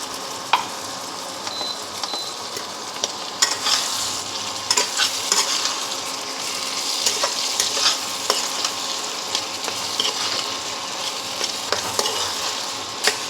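Spice paste of black mustard, ginger, green chilli and cumin sizzling in a hot pan, a continuous crackle broken by repeated scrapes and knocks of stirring, close and fairly loud with no voices.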